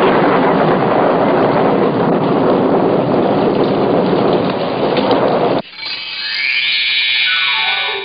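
Heavy rain pours in a dense, constant roar during a thunderstorm in an animated film, then cuts abruptly to a quieter, thinner rain bed with a faint rumble for the last few seconds.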